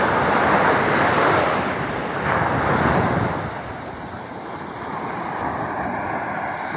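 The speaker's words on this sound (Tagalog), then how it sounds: "Lakas-lakas pa ng alon." Strong ocean surf on the Zambales coast, a loud roaring wash of breaking waves with heavy wind buffeting the microphone, surging in the first few seconds and easing slightly toward the end, no voices.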